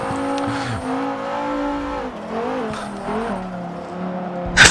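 Racing cars in Forza Motorsport 7, a 1990s Porsche and BMW battling side by side, engines droning steadily with shifting revs, a brief tyre squeal and a sharp burst at the end.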